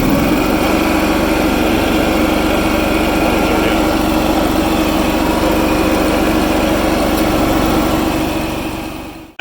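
A heat-exchange truckmount carpet-cleaning engine runs close and loud, a steady droning hum that holds evenly for several seconds before cutting off abruptly at the end.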